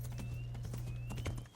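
Rapid hoofbeats of a horse walking uphill in Kingdom Come: Deliverance over a steady low hum, a brisk clip-clop rhythm that fades at the end.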